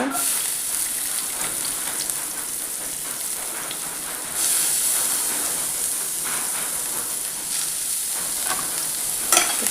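Chopped onion sizzles steadily in a hot pan with mustard seeds and cumin, a close crackling fry that grows louder partway through, with no talking.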